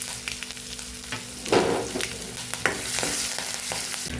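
Green chilies and curry leaves hit hot oil already holding urad dal, chana dal, mustard seeds and asafoetida, setting off a close, crackling sizzle with sharper bursts as the pan is stirred.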